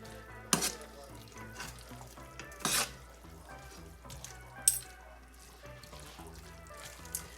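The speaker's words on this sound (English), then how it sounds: "While this is on medium-high heat, and I'm going to stir all this up." Noodles and sauce get stirred and tossed in a hot pan over medium-high heat, a faint steady sizzle broken by a few sharp scrapes and clanks of the utensil against the pan.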